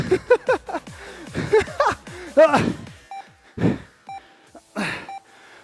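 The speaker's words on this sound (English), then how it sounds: "The next beeps you hear will be a 1-minute rest." Several short electronic beeps from a workout interval timer at a steady pitch sound at even intervals during a HIIT class, mixed with breathy vocal sounds and grunts from a person nearby.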